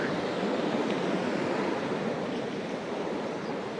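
Sea surf rolling onto a beach in Mersin, a steady broadband wash of waves with some wind, continuous and fairly close, with no talk.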